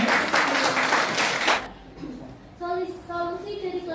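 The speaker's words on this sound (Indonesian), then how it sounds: "Silakan beri tepuk tangan untuk kelompok SAARC." Students in a classroom clap for a student group in a short, lively burst of applause lasting under two seconds, followed by a student beginning to speak.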